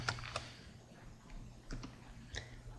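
Faint, sparse key clicks come from someone typing a short word on a computer keyboard in a quiet room.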